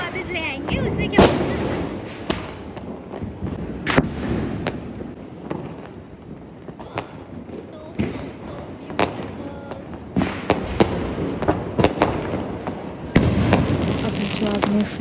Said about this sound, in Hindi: इतने पटाखे चल रहे हैं मात्र 1 घंटे में। देखो स्काई शॉट्स ही स्काई शॉट्स।